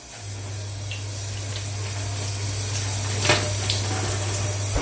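Warm tap water runs steadily into a sink with a constant close hiss, joined by a low mechanical hum and one small clatter partway through.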